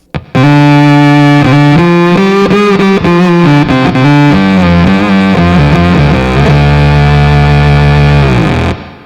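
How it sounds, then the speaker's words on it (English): Electric guitar through a Perseus sub-octave fuzz set one octave down and into a Talisman reverb, loud thick fuzzy chords played in short phrases, ending in a sustained fuzzed chord that rings out. "So this is the Perseus going into the Talisman Reverb now."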